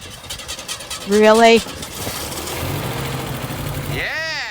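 Engine fuelled with moonshine cranks and catches, settling into a low steady idle with a rising whine at the end, while people talk and cheer loudly over it.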